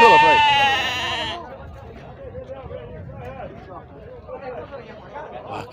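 A sheep lets out a loud, wavering bleat up close at a livestock market in Taquaritinga do Norte, Pernambuco, then quieter animal sounds continue under someone talking and background crowd chatter.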